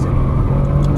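A Porsche 991 Turbo S on track accelerating out of a corner, a loud, dense engine roar heard briefly and close, with no talk.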